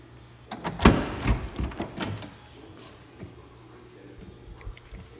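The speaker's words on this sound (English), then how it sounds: "So let's get the door open." Door of a 1970 Hemi Roadrunner convertible opening, a few close mechanical clunks and latch clicks early on, then a quieter stretch with faint handling noises.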